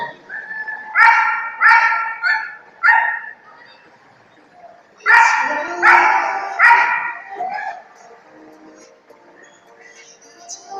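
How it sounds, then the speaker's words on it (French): A dog at a fair barks in short bursts, a quick run of three or four sharp barks, a pause, then another cluster, with faint whimpers between. "il est content, il aboie, ça y est"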